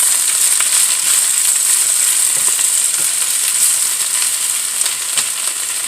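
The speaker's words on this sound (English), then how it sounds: "I'm going to let this saute and I'll be back." Vegetables sautéing in a pan with salt and pepper, a steady, loud, dense sizzle and crackle that holds evenly throughout with no voices.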